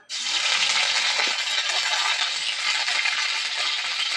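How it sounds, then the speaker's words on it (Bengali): Spoonful of ginger-chili paste dropped into hot oil erupts in a loud, dense sizzle that starts abruptly and holds steady and close for several seconds, with no voices. "তেলটা গরম করে নিয়েছি আদা লঙ্কা বেটে নিয়েছি সেটা এক চামচ দিয়ে দেবো"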